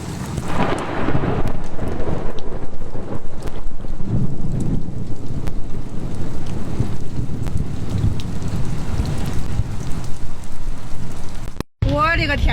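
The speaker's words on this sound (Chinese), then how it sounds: "你看这风刮的，这雨板都不管用了，感觉车都有点晃" A violent storm with gusts and hail batters a vehicle, strong wind buffeting the microphone in a continuous roar mixed with heavy rain, loud throughout; a voice speaks faintly near the end.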